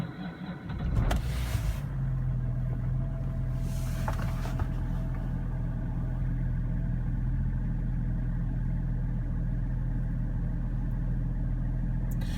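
BMW 535d E60 diesel engine turning over briefly on a cold start, then settling into a steady, low, droning idle heard up close for the rest of the clip.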